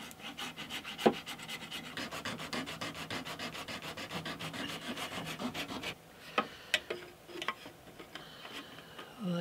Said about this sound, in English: There's a little bit of filing to do.